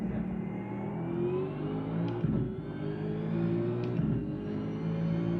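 A race car engine in a sim racing game at Laguna Seca, a steady mid-pitched drone with gear shifts and brief dips as the revs shift, alone without talk.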